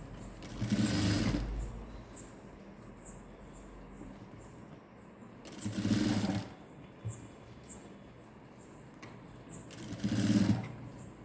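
Sewing machine stitching around a round garment neckline in three separate bursts of rapid whirring, each about a second or two long, with quiet pauses between them and faint background noise.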